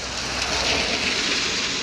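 Steady rain falls in Kamianets-Podilskyi, a dense and even hiss of drops hitting surfaces close by, loud and continuous with no voices.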